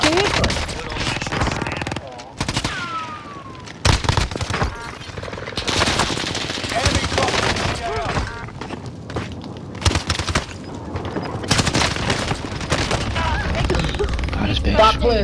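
Heavy gunfire in the Warzone Rebirth video game, with dense repeated shots and bursts running loud throughout, mixed with other battle noise while players talk over it.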